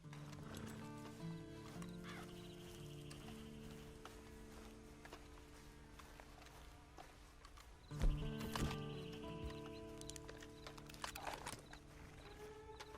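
Horse hooves clip-clop steadily in the video game Red Dead Online, with a neigh or whinny, over a low music-like bed and a louder burst of activity partway through.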